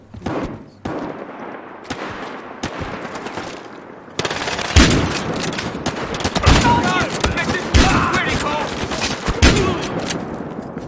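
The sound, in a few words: gunfire in Battlefield Hardline video game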